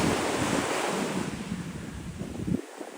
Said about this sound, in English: The sound of the sea is fantastic.